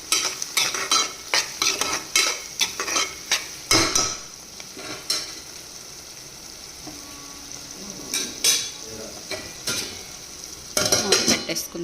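Chopped onions fry with salt in a hot pan while a spoon scrapes and stirs in bursts against the metal, under a soft, steady sizzle.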